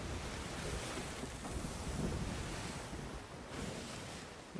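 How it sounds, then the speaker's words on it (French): Storm waves surge and wash around a ship at sea in the pirate game Sea of Thieves, a continuous dense roar of surf and wind at steady moderate level with no voices. "Alors là, les vagues me font aller complètement n'importe où."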